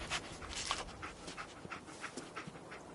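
Dogmeat, the dog companion in Fallout, pants in quick, soft, rhythmic breaths close by, with a few faint whimpery catches, fairly quiet and alone without talk.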